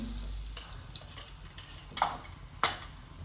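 Asafoetida hitting hot oil in a pot for mutton rassa gives a soft, steady sizzle with a few sharp crackles and spits, faint and close.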